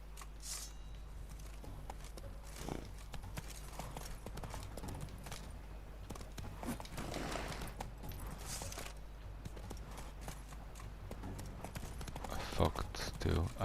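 Horse hooves clip-clop through a gallop in The Witcher 3, a steady thudding rhythm under ongoing talk and game background noise for most of the stretch.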